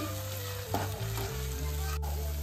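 Ginger garlic paste and spices stir-fried together in a pan for mutton curry, a steady close sizzle with scraping stirring strokes and occasional clatter from the utensil, no speech.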